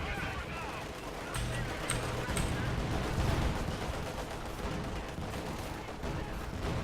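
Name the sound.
howitzer artillery shelling in Company of Heroes 2 video game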